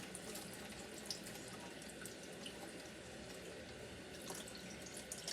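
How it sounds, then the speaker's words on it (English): Tap water runs steadily and fairly close while makeup brushes caked with foundation are rinsed and scrubbed in a sink, a continuous even splash with no speech. "So now I'm just gonna put some more water in here"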